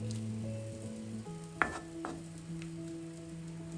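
Tomato pachadi for an Onam sadhya being mixed in a pan, a quiet, steady sizzle with a sharp scrape or two partway through and no talking.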